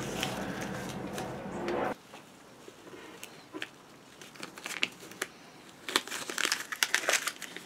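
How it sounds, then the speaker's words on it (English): Wax paper being peeled slowly off warm vinyl on a prop helmet, faint crinkles and soft tearing crackles in irregular bursts, close by and quiet after a brief louder rustle at the start. "Don't peel the wax paper off too fast because you can tear that vinyl because it's still warm."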